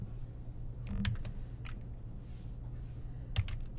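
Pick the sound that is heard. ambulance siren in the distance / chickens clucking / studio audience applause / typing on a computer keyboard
typing on a computer keyboard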